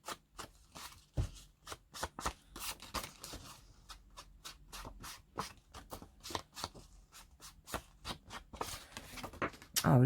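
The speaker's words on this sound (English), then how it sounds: "what I need to do is just pink up all of these edges" Pinking shears snip along the edges of paper tags for a handmade tag folio, a quick irregular run of crisp, close cutting clicks and rustles that goes on without a break, with a louder snip near the end.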